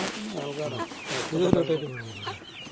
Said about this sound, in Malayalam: ഇതേ ഇത് പൂവനാണ് പേടയാണ് പേട ഉണ്ട് പൂവനുണ്ട്